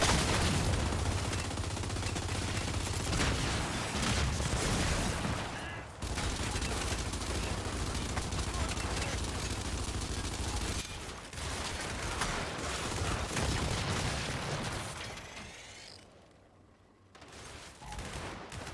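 Constant rapid gunfire fills a Gears 5 Horde mode match, sustained automatic weapon bursts layered with explosions and game effects, loud and dense with only brief lulls.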